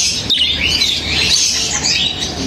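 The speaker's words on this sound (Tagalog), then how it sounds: "Kakaiba namang ibon to guys, oh." Unusual caged birds at a bird market give loud, close chirps and squawky calls that overlap continuously, with no talk.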